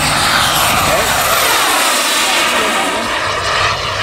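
A radio-controlled turbine jet roars loudly overhead, its steady whining engine rush filling the air with a slight pitch sweep as it flies past.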